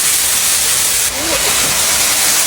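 Soy sauce poured into a hot wok while cooking small wild river fish with wormwood sprouts outdoors, giving a loud, steady, close sizzling hiss that fills the whole moment without talk.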